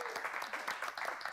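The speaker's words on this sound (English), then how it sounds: "I think this kitchen definitely deserves a massive round of applause" A studio audience on a live morning show gives a round of applause, a fairly faint, steady patter of many hands clapping, with some background voices mixed in.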